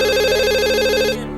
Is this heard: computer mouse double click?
no